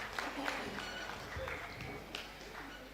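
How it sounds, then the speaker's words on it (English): Applause from an audience in a hall during a university convocation ceremony, a steady wash of many hands clapping that holds at moderate, fairly quiet level for the whole stretch, with scattered crowd noise mixed in. "Please, let's give another better round of applause."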